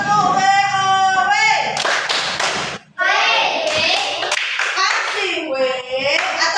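A classroom of children joins in a chanted rhythmic group clap, the tepuk WOW, during a maths lesson. Sung and spoken voices dominate, with punctuated bursts of claps and thumps between the phrases.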